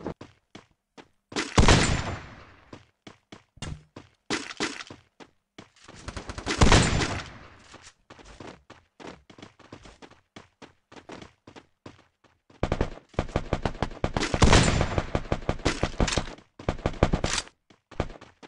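Gunfire in the Free Fire video game, rapid bursts of automatic shots in rhythmic volleys with short pauses, loud and close, then a long sustained burst near the end.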